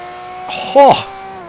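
A Lamborghini Reventón driven hard, its engine holding a steady, close drone while someone talks over it, ending in a brief sharp noise.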